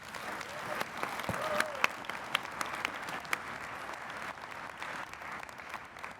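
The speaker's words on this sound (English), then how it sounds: "Let's give them a round of applause." Audience applause for a panel at an HPE ProLiant corporate event: steady clapping from a mid-sized crowd over about six seconds, with a few louder individual claps and a brief whistle-like tone, fairly even in loudness throughout.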